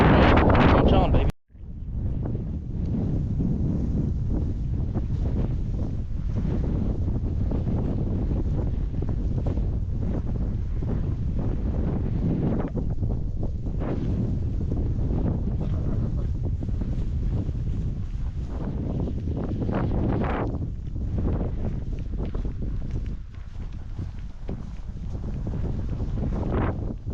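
Strong wind buffets the microphone outdoors on a cattle ranch during a spring cattle drive, a continuous loud roaring rush with gusts, briefly broken at the start, and no clear voices.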